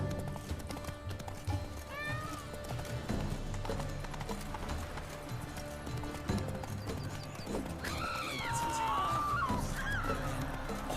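Roach, a horse in The Witcher 3 game, gallops with steady rhythmic clip-clop hoofbeats amid game music and ambience, with whinnying neighs rising near the end.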